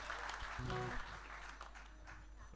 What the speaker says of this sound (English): I think they need a round of applause for trying, everyone.